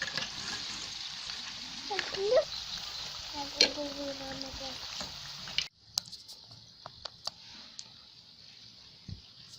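Palak pakoras frying in hot oil, giving a steady close sizzle and crackle with a few clinks and stirring scrapes. Partway through the sizzle drops to a lighter hiss with scattered pops.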